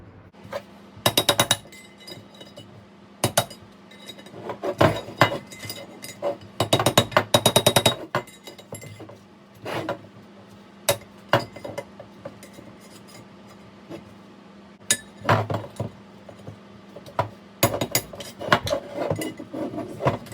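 Metal tools prying and tapping at the seals inside a BMW E30 steering rack during a rebuild, irregular sharp clinks and knocks in bursts over a low steady hum, close up with no talking.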